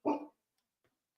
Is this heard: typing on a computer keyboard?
no